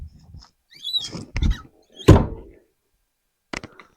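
Back seats of a Honda EF Civic hatchback flipped up, giving several separate close thunks and clunks with short rustling between them, the loudest knock in the middle and a fainter one near the end.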